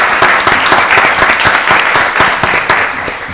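Audience at a county board of commissioners meeting applauds county animal care staff, loud, dense clapping with sharp individual claps sustained throughout.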